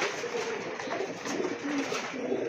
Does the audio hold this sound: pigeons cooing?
yes